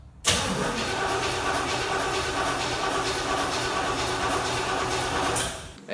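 The 1963 split-window car's engine, not run since 1981, cranks and starts, churning loudly and steadily for several seconds at close range with no voices.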